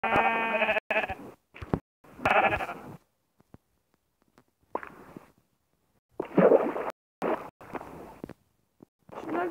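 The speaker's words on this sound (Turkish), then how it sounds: "Aa koyun keselim." Sheep bleating in the Minecraft video game: a series of short, clear, wavering bleats separated by gaps of silence, alone with no talk.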